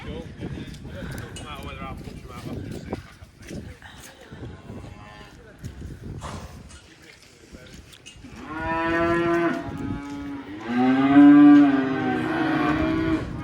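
Cattle moo loudly and in long low calls on a farm, with several drawn-out moos near the end and rustling movement and scattered footsteps before them.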